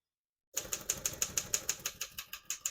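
Keys striking on a 1948 Royal KMM portable typewriter, a steady run of about fourteen crisp, evenly spaced clacks close to the microphone after a brief silence, with no talking.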